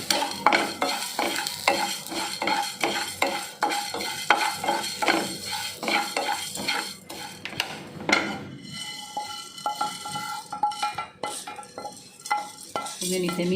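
Urad dal and fenugreek fry in hot oil while a spoon stirs and scrapes the pan in a quick, repeated rhythm, with steady sizzling and clinks of metal close up and no talking.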